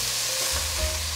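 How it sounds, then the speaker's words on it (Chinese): Fried tofu and potatoes stir-fried fast in a wok after sauce is poured in, producing a loud, continuous hiss of sizzling with a brief stir scrape. "接着淋上酱汁，快速翻炒"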